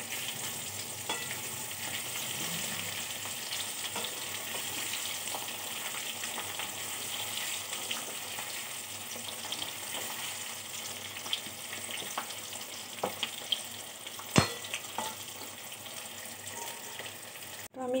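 Sliced potatoes fry in oil in a home kitchen, a constant dense sizzle lasting the whole stretch, with occasional light scraping stirs and one sharper clack near the end.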